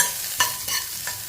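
Small sliced onions sautéing with cumin in a hot pan sizzle steadily, with a few sharp stirring scrapes close up and no talk.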